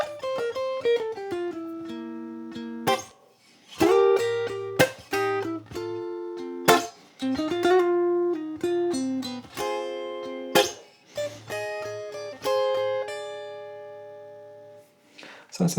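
Ukulele playing a rock-and-blues tune, a sequence of plucked chords and single-note riffs with clear attacks and ringing sustain, steady rhythmic phrasing with brief pauses between phrases, close and solo without talk.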